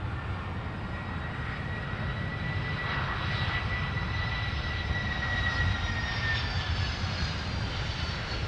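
A FedEx Boeing 767 jet airliner at Minneapolis–Saint Paul airport gives off a steady, loud engine roar with a whining turbine tone that holds throughout, with no voices.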